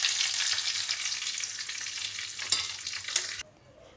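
Cumin, mustard seeds, curry leaves and chillies sizzling in hot oil for perugu charu, a close, loud, bright frying hiss with a couple of sharp pops before it suddenly quiets.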